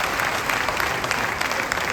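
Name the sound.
audience applause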